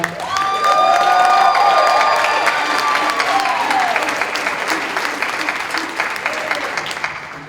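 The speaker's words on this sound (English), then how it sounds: "Everyone give a round of applause for our DM" An audience at an Anime Central convention improv Dungeons & Dragons show breaks into loud, sustained applause mixed with cheers, peaking early and then slowly tapering off.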